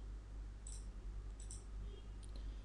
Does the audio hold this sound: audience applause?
no